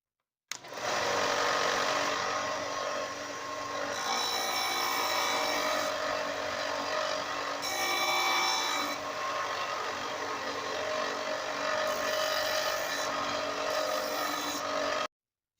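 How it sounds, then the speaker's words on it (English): A powered sander grinds down a wooden knife scale, a loud steady whining drone close by that runs without a break, with slight shifts in pitch as the wood is pressed against the belt. "I'm going to take this over to the sander and just take it right down to that line"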